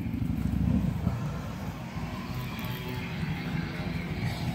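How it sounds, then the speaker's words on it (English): A neighbor's motorcycle rolls in toward home, its engine a steady low rumble that swells slightly near the start, heard from a short distance in a yard setting. "Oh, neighbor's coming home with his bike."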